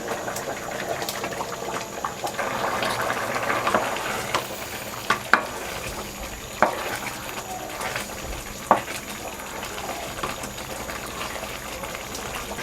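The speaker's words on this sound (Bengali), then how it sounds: "মাংসটা ঢেলে দিচ্ছি।" Meat poured into a pot of hot spice paste fries and sizzles steadily, with stirring scrapes and a few sharp clanks of a utensil against the pot throughout.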